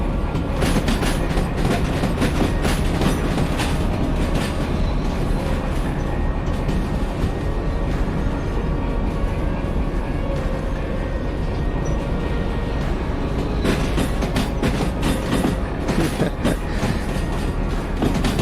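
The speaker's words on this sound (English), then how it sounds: "quite the wheel flange squeal that would be caused by going 60 and a 40" Train running along the track in the railway game Derail Valley, taking a curve at 60 where 40 is the limit, with a steady loud rumble, rhythmic wheel clatter and a thin, sustained high squeal of the wheel flanges.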